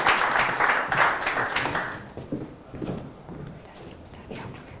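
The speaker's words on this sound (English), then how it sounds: "Big round of applause." A conference audience applauds a panel on B2B marketing, a dense burst of clapping that fades after about two seconds into scattered claps and faint voices as the applause dies away.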